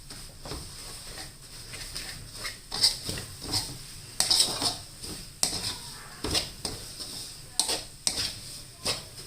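Clattering metal scrapes and taps of a spatula stirring a filling for Thai glutinous rice balls in a pan, irregular and close, over a faint background hiss.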